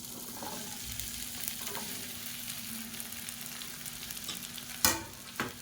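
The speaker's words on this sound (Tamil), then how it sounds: "இப்போ இதை நல்லா வதக்கி எடுக்கணும்." Chopped okra (ladies finger) fries in hot oil for a masala, a steady close sizzle with faint stirring scrapes and a couple of sharper spoon clanks near the end, no voices.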